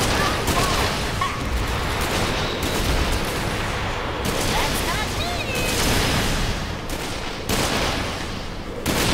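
Enemy gunfire in the video game Sunset Overdrive, dense continuous volleys of shots under a busy game mix, with a few louder bursts and brief gaps.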